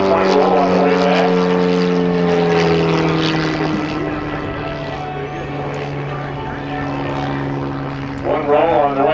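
A propeller aerobatic plane flies manoeuvres including a half Cuban eight and point roll at the 2010 New Garden Airshow, its engine droning loud and continuous with shifting pitch, while a commentator talks over it.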